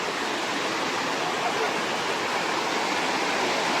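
A waterfall in the Araku Valley roars as a steady, dense rush of falling water, loud and close, filling the whole stretch without a break or any voices.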